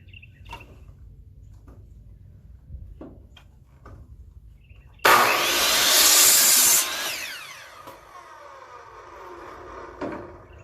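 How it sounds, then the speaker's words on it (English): A miter saw cross-cuts a wooden piece for a lamp: quiet handling noises, then a loud, close whine as the blade bites through the wood for about two seconds, followed by the motor spinning down. "want to do a cross cut on it with the miter saw here"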